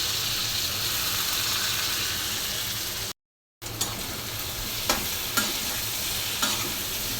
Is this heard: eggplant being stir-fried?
yes